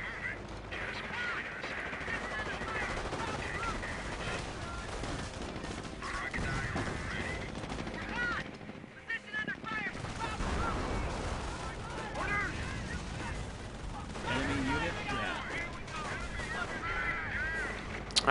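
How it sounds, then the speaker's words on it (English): Machine gun fire rattles in the Company of Heroes video game, dense and continuous amid battle noise, at moderate level throughout. "Okay, so they got an MG in that building"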